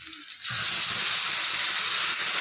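Green chili, ginger and cumin paste hitting a hot pan for a fish dish, a sudden loud hissing sizzle after a brief quiet moment, then a steady dense crackle held close and strong to the end.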